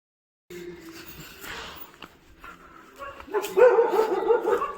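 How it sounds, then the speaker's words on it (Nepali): Dogs barking along a road, a string of sharp barks and yips rising louder toward the end, mixed with someone shouting at them. "ए अरे ओइ कुकुर हट"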